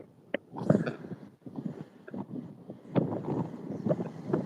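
Gusty wind at a seaside jetty buffets the microphone in uneven bursts, rumbling low and loud, with wave-like surges and no talking.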